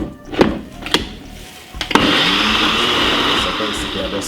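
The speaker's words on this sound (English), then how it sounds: "blend it for about 3 to 4 minutes" Kitchen blender whirring a broccoli drink of broccoli, honey and water, steady loud motor roar starting after a couple of knocks and clunks as the lid goes on.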